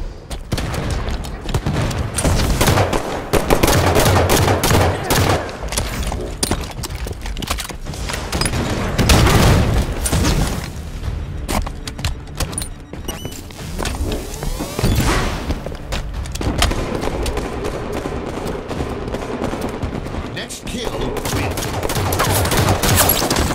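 Halo 5 ranked Slayer match gunfire: dense, continuous bursts of automatic fire mixed with heavy booms and thuds, loud throughout with brief lulls between volleys.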